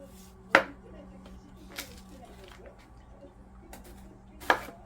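A knife cuts radish into thin strips on a board, giving a few sparse, sharp chopping strikes that sound faint and close in a quiet room.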